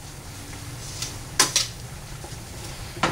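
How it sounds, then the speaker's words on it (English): Borax stirred into homemade laundry detergent brings a few bright clinks and scrapes of a utensil against a container, two sharp knocks close together and another near the end, over a quiet steady hum. "And mix that in as well."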